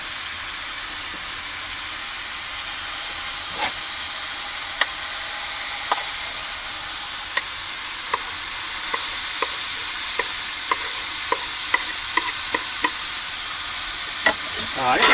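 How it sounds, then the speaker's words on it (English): Mushrooms, onion and ham fry in a pan during breakfast cooking in a van, a loud, steady sizzle with scattered light utensil taps that grow more frequent toward the end, and no talking. "those mushrooms are cooking up really nice, so I'm going to go ahead and add my onion and ham"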